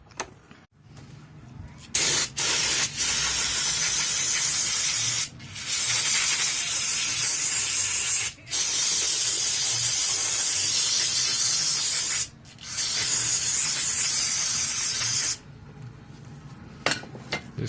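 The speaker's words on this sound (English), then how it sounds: "I'm just going to take some brake cleaner and just go through it and clean it up real nice" Brake cleaner sprays in several long, loud hissing bursts with short pauses between them, cleaning a 4180e transmission valve body, and a few faint metallic clinks come near the end.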